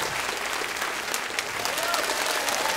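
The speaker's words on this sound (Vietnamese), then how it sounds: "một tràng pháo tay thật lớn cho Đăng Nguyên thưa quý vị" Applause from an audience at a live overseas cha cha cha music show, a dense continuous wash of clapping held at steady loudness throughout with no voices over it.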